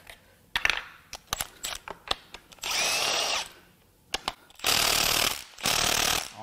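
Cordless impact wrench loosening intake manifold bolts on a Toyota 2AR-FE 2.5L engine: short rattling hammering bursts followed by three longer sustained runs, with tool clinks in between.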